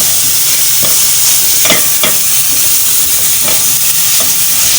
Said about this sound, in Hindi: ये थोड़ा सा लहसुन फ्राई हो गया।